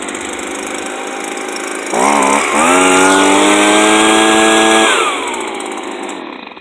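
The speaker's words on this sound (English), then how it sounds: "It's just a little handheld blower, but it'll move rocks." A Stihl BG55 handheld leaf blower, freshly repaired with a cleaned carburetor and new diaphragm, idles, then revs up to a loud, steady high-pitched two-stroke whine for about three seconds before dropping back to idle and cutting off.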